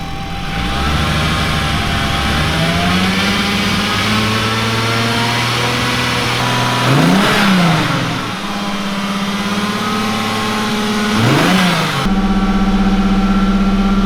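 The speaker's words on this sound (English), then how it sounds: "Okay, hold high revs." A rebuilt 2.8 24v VR6 turbo car engine revs high and holds steady with a loud, continuous drone, briefly dipping and rising twice before settling back to a high, even roar.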